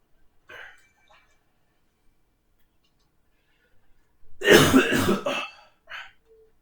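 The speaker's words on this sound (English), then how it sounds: "Hopefully this is the only time I cough in this video." A single burst of loud, harsh coughing from a sick person close to the mic, preceded by a faint short sound and followed by a quieter exhale.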